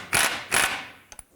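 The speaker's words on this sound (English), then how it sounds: "19mm socket, remove this long bolt that goes through the rear bushing of the control arm" A ratchet on a 19mm socket loosens the long through bolt in the rear bushing of a front lower control arm on a 2001-2007 Toyota Highlander: two close, brisk ratcheting strokes, then a pair of sharp clicks.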